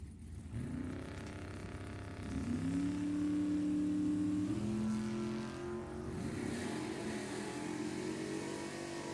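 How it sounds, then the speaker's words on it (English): Bracket drag race cars rev and launch at Sacramento Raceway, engines droning loudly and climbing in pitch as they pull away down the strip, steady and close with no speech. "So Cody Cloud takes the win, runs a 6:36 at 101 miles an hour"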